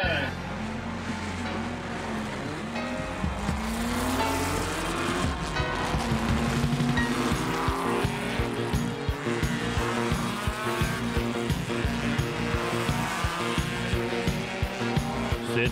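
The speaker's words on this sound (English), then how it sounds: "Gentlemen, start your engine." Race car engines roaring and tires squealing in an auto racing sound effect, a loud continuous blend of revving motors and skidding that builds and sustains without pause.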